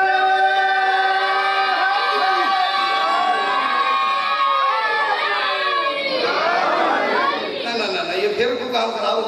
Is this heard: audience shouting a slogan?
yes